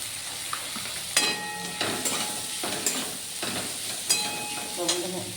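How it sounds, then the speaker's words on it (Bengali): Chopped onions frying with a little salt in a pan give a steady sizzle, broken by repeated scraping bursts from stirring, close and fairly loud throughout. "পেঁয়াজটা খুব সুন্দরভাবে নরম হয়ে গেছে, ভাজা হয়ে গেছে"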